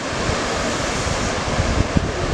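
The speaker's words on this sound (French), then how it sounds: "qui donne des vagues, petites vagues aux alentours de 50-60 cm max" Small surf waves about half a metre high break at an Anglet beach, a steady broadband wash of rolling water with a few slightly louder surges, close and continuous, with wind noise on the microphone and no talk.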